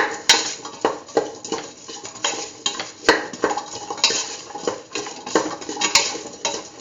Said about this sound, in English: mixing the salt